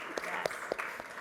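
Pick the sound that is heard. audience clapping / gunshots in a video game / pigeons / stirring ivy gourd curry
audience clapping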